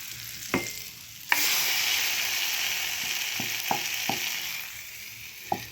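Curry leaves drop into hot tempering oil for a protein-rich kadambam and burst into a loud, sudden sizzle that settles into a steady hiss, with a few sharp spoon clicks against the pan.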